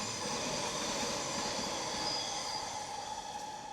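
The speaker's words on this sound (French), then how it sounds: "on va encore laisser le métro passer" A metro train rolls past nearby, a loud, steady rumble with rail hiss and faint wheel squeal holding for the whole stretch, no voices over it.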